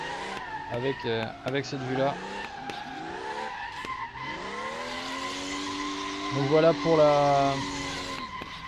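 In the Assetto Corsa racing game, a car drifts with squealing tires and a revving engine that rises and falls in pitch, while someone talks over it.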